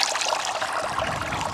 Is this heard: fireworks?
no